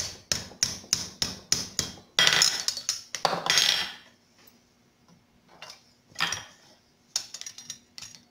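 Hot cut chisel struck with a hammer to cut copper over an anvil corner: a rapid run of sharp metallic blows, then denser clanging bursts and scattered ringing strikes with pauses between, close and loud.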